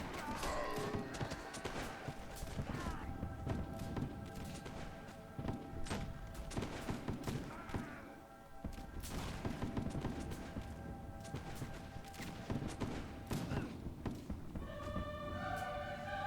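A volley of musket fire from light infantry in the Mount & Blade Warband video game cracks out as dense, overlapping shots amid continuous battle din, with hoofbeats and scattered thuds running through the whole stretch.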